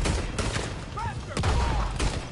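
Gunfire in Red Dead Redemption 2 during a trail shootout, several loud shots and bursts cracking at irregular intervals, mixed with shouting voices and ongoing game noise.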